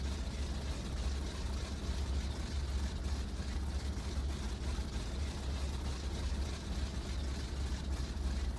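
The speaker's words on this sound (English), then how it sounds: "Just the engine's always at idle." Simulated ATR 72-600 turboprop engines idle in Microsoft Flight Simulator 2024, a steady low drone with a constant hum that holds evenly throughout at moderate level, with no voices.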